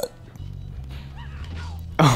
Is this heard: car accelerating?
no